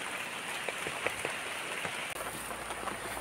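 Monsoon rain falls steadily on a village, a dense, even hiss of drops hitting surfaces close by, alone with no voices.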